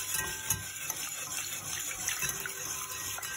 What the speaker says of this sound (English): So now I'm just gonna gradually add my milk whilst whisking